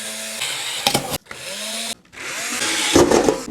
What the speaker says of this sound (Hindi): इन सारे काम में सिर्फ यही 2 सुराखों के लिए आपको ड्रिल की ज़रूरत पड़ेगी